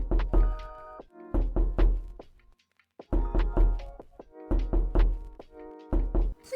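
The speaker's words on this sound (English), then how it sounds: "Please don't spam knock on people's doors." Knocking on a door in Roblox Bloxburg, several quick series of hollow thunking knocks in fast clusters, with a brief pause partway through, loud and close with no talk.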